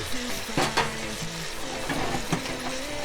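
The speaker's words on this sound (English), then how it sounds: "you really want that sizzle in here" Lamb potjie stew sizzling and frying in a hot pot, a crackling hiss with stirring scrapes and a couple of metallic clinks close by.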